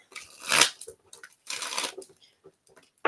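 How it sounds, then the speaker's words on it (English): Tarot cards shuffled by hand in two quick, close bursts of crisp fluttering riffles, separated by quieter handling and faint rustles. "Let's go ahead and get some shuffles for you, Wanda, before we get into this."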